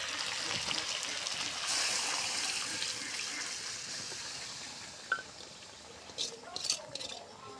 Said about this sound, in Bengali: এই যে বুটের ডালটা সিদ্ধ করে নিচ্ছি, দেখুন এটা এখন দিয়ে দেবো